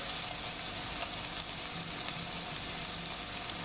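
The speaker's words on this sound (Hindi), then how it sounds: "पेस्ट की अच्छी तरह भुनाई करेंगे 2 से 3 मिनट।" Masala paste for egg tikka masala fries in a pan, giving a steady, dense sizzling hiss with fine crackles, close and even for the whole stretch, no voices present.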